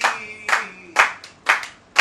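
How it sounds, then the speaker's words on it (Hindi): A group claps hands together in unison, a steady rhythm of about five sharp, loud claps spaced roughly half a second apart, with faint voice tones underneath. "ताली सब मिलके बजाओ तो मजा आ जाए।"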